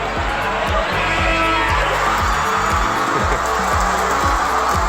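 A basketball arena crowd roars steadily during a women's basketball game, a dense continuous wash of cheering with a commentator talking over it.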